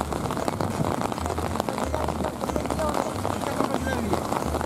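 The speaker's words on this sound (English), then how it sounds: "it's raining pretty hard now" Heavy evening rain on the Seine, a steady dense patter with wind buffeting the microphone and low rumbling gusts throughout.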